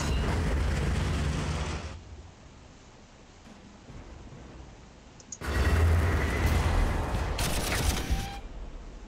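Bursts of gunfire in the Warhammer 40K Armageddon strategy game: two loud stretches of rattling, explosive noise, one at the start and one later, separated by a quieter low rumble.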